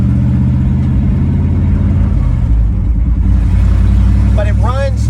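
Carbureted engine of a 1988-98 Chevrolet C1500 OBS truck idling with a faint tick, a steady low rumble with a brief hiccup, while people talk over it.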